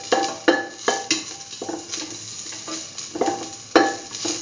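Salt is mixed into a curried chickpea coconut dip, with a spoon scraping and stirring through the thick paste and sharp knocks against the bowl now and then, close and without talk.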